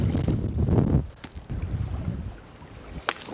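Gusty wind on a lake while fishing from a boat, buffeting the microphone with low rumbling roars that rise and fall, plus occasional sharp knocks.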